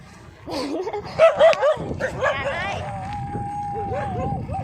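Dogs bark and yip in a few quick bursts over a stretch of singing and talk, with some whimpering sounds mixed in near the middle.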